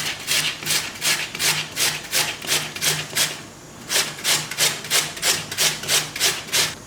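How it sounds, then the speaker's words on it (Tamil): Potatoes being grated on a large grater for potato pakoda: a steady run of loud, rhythmic scraping strokes, a brief pause midway, then the strokes resume at the same pace. "இது போல எடுத்துக்கிற எல்லா உருளைக்கிழங்கையும் நான் நல்லா துருவி எடுத்துக்கிறேன்."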